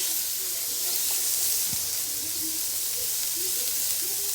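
Unsalted butter melts in a hot pan with kale and beets, giving a dense, even sizzle and hiss that holds steady and close throughout, with faint scattered crackles.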